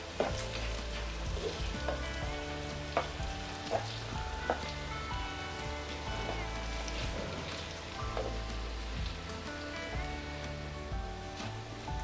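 Ginger sizzles and crackles steadily as it fries in hot oil for an Onam ginger curry, with a dense close spatter punctuated by occasional stirring clinks.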